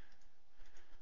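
Quiet computer keyboard typing, a short run of soft key clicks in a steady rhythm, close and alone with no talking.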